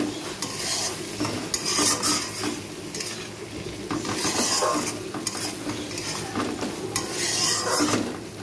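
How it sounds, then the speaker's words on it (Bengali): A spoon scrapes and stirs spices, turmeric and potatoes in a pan while they sizzle steadily, with repeated clinks of metal against the pot. "ভালো করে একটু কষিয়ে নেব"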